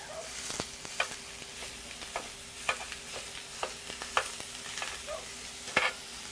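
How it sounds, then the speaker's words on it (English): Steady frying sizzle of ground beef with repeated scraping clicks of a spoon breaking up the meat in a pan, fairly close, no talking. "I'm going to use my spoon here and break up this meat."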